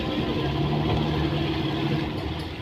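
A fishing trawler's engine idles at the Namkhana hilsa fish market with a steady low drone and even hum, close by and unchanging throughout.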